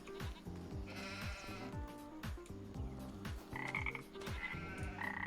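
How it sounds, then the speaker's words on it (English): Frogs croak in a dense, rhythmic chorus of deep repeated pulses while sheep bleat intermittently over the top, loud and continuous throughout, in the video game Farming Simulator 25. "now you've got the frog chorus competing with the sheep"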